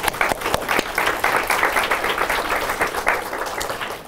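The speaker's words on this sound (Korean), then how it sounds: "박수 한번 쳐주세요" An audience at a winter youth camp gathering breaks into brisk applause, a close, lively patter of many hands that stays strong for several seconds before easing slightly.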